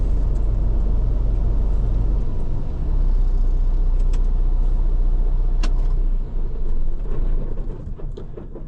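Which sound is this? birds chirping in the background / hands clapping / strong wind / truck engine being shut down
truck engine being shut down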